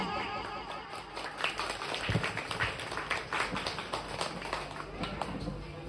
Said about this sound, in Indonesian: mari kita sama-sama berikan tepuk tangan yang paling meriah untuk anak-anak hebat kita